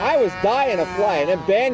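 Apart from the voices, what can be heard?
No everyday noise stands out behind the speech.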